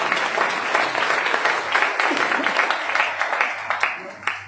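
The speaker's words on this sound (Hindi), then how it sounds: "तो एक बार मुकेश भाई अंबानी के लिए जोरदार तालियां हो जाए।" Audience at a business seminar bursts into sustained applause, many hands clapping densely together, moderately loud and even, with a few sharper claps toward the end.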